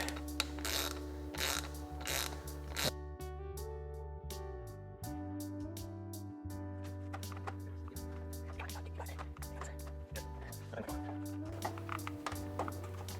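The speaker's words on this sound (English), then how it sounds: "you want to make sure you grab a wrench just by the very end" A ratchet wrench clicks while working on the intake pipe of a GR Corolla, a fast even run of mechanical ratcheting pulses that come close and loud, speed up and slow in bursts, with a brief low voice underneath.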